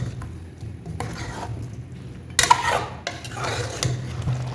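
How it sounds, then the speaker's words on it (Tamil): Mutton masala, made with meat that was already boiled, is stirred in a pan over high flame. Soft scraping and a faint sizzle are broken by a few louder clinks and scrapes of a utensil against the pan, with no talk. "ஸோ மசாலா பிடிக்கணும்னு சொல்லி நான் கிண்டிக்கிறேன்."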